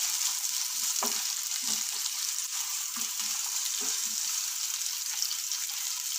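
Chopped onion dropped into hot oil in a pan and stirred, a loud continuous sizzle with several soft scraping stirs of the spoon spaced through it.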